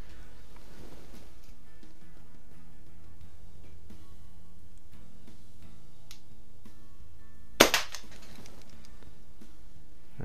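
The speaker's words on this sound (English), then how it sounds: "I'm going to shoot one more time with the model 177." A Daisy Model 177 air pistol fires a single sharp crack, close and loud, against an otherwise quiet outdoor background.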